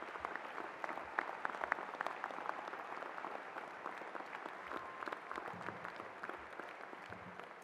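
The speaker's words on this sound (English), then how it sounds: "One more round of applause for our class of" Audience at a 2018 dental school graduation ceremony applauds the graduating Doctor of Dental Surgery class, sustained dense clapping that holds steady for several seconds with no voices over it.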